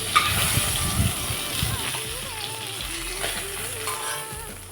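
Fish pieces frying in hot oil and being turned over give a continuous close sizzle and splatter, with a voice talking over the cooking throughout.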